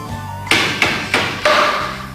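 Four sharp, loud hammer strikes driving long nails into wood for a wooden wheelbarrow land at a steady, even pace against a quiet background, each with a short ringing decay.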